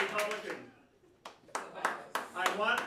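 Scattered bursts of audience clapping at a comedy club in Cambridge answer a show-of-hands poll, each short round rising and fading, with talk and murmuring in the room between them.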